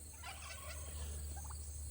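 Young turkeys in a hoop coop give a few soft, scattered gobbling calls over a steady low hum, faint and fairly close.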